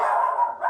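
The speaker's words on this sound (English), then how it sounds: "that dog's going to be crazy today" A single dog's bark or yelp, a sustained tonal burst with a brief dip near the end, close and fairly loud, heard during work on a Norton Commando 750 motorcycle restoration.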